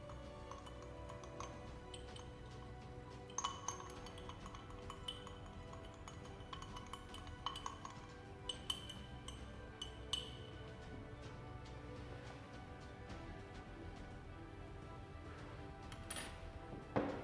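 A glass rod or spoon stirring a solution in a glass beaker during a chemistry qualitative analysis experiment, faint quiet clinks and ticks scattered irregularly, with a few brighter taps against the glass.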